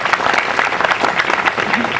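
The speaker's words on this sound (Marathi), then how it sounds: "एकदा जोरदार टाळ्या होऊन जाऊ द्या." A lecture-series audience breaks into loud, dense applause, a continuous close wash of many hands clapping that holds steady for the whole stretch.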